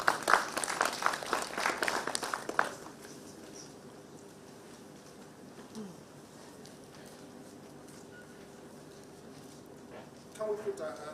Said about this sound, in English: Can we put our hands together again for that?